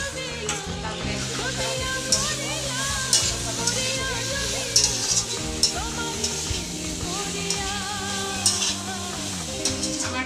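Vegetarian jackfruit curry cooking in a pan, a continuous close sizzle with scraping stirring strokes and occasional spoon clinks.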